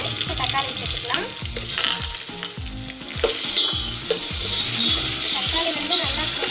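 Onions frying in a pan, with tomatoes added, crackle and sizzle steadily while a spatula stirs and scrapes in irregular strokes, close and fairly loud.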